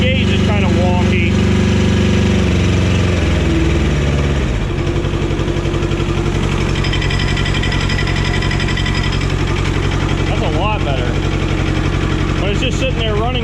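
A Cub Cadet 128 diesel garden tractor engine with a replaced clutch idles up close. The loud, steady, low rumble has a fast even chug, and an early change in pitch settles into a constant putter. A voice talks over it.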